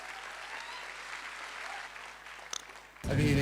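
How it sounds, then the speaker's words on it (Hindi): Audience at a network marketing seminar claps steadily for about three seconds, a moderate-sized indoor crowd, before a loud voice cuts in abruptly at the end. "खुशी लग रही हो, अच्छा लग रहा हो तो ताली बजाना"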